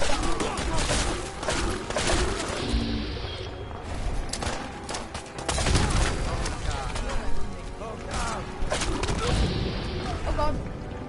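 Hunting rifle fire in the video game Fallout 4, a few heavy shots and booms scattered through dense game action, with a voice talking over much of it.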